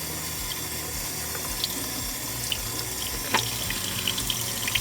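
Water runs steadily from a faucet into a sink during handwashing, a continuous close splashing stream with small drip and splash accents, no voices.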